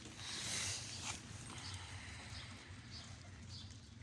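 Pigeons coo softly, partly masked by the steady hiss of heavy rain.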